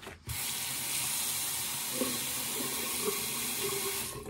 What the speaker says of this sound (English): You put the water in there and then it just goes right out these little channels right there.